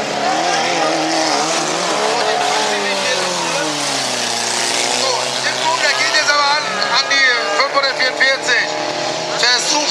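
Race car in a German club motorsport heat of the Heide-Cup, class up to 60 hp, spinning out in a corner; loud continuous engine roar with sweeping pitch, and sharper tire noise toward the end.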